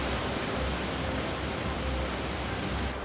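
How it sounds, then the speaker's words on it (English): Christie Falls, a waterfall in New Zealand's Hollyford Valley, gives a steady, dense roar of falling water close by, an unbroken broadband rush with no voices. "Next stop, the Christie Falls"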